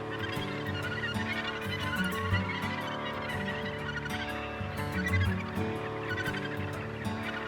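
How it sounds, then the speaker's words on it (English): A dense gannet breeding colony in Scotland, many birds calling at once in a continuous harsh, overlapping chorus at steady loudness with no pauses. "Gannets can recognize their mate, even among so many other birds."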